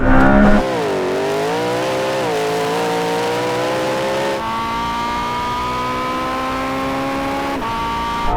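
A LaFerrari, a Porsche 918 and a McLaren P1 accelerating hard from a standing start in a race. A loud, continuous engine roar climbs in pitch through the gears, with an abrupt gear change partway through.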